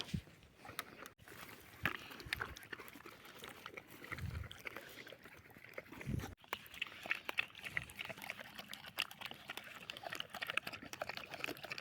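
A tired American Staffordshire Terrier laps water in a dry forest, a faint, close, wet rhythmic slurping that continues steadily throughout, with soft outdoor rustle behind it.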